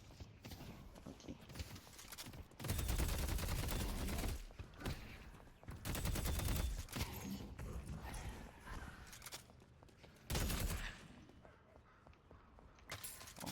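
Gunfire from shooting in the video game Deadlock comes in several loud bursts of rapid shots separated by quieter stretches of game ambience.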